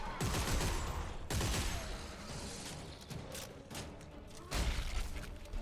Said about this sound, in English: Force gun. Coming in handy.